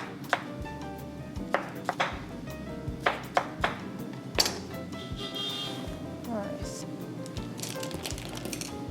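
A knife cuts through fresh peaches with a series of crisp, irregular taps and chops on a board. The cutting is close, and someone talks over it.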